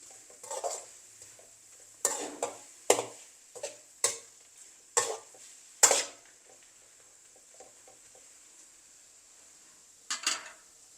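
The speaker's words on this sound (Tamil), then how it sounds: "நல்லா மிக்ஸ் பண்ணி நல்லா தக்காளியெல்லாம் நல்லா வதங்க விடுவான்" A spoon scrapes and knocks against a pan of frying tomatoes in irregular bursts, with a faint sizzle underneath and quiet gaps between the stirs.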